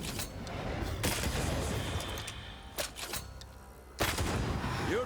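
Gunfire in the action game Banishers: Ghosts of New Eden, several loud sharp bursts over a dense, busy battle background.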